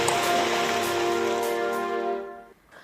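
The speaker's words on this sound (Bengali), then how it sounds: "দক্ষিণবঙ্গের জেলায় জেলায় নাগাড়ে বৃষ্টি" Steady rain falls across districts of southern Bengal as a dense, even wash of noise, joined by a sustained tonal hum, before both fade away in the final half-second.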